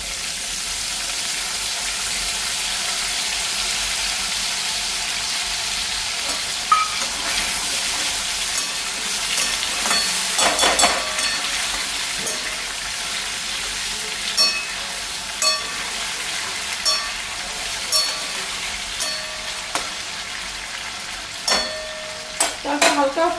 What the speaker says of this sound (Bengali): চালটা হালকা ফ্রাই গেল